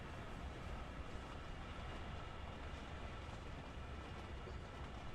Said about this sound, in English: Why do I hear a train going when I've not actually got to it yet?